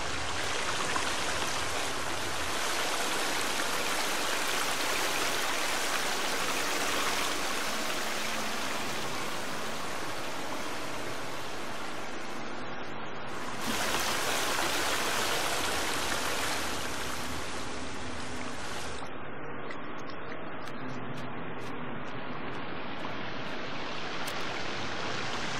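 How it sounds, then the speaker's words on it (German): Underground river inside a cave in The Forest video game, a continuous broad rushing flow with a brief surge in the middle, heard alone without voices. "Unterirdischer Fluss."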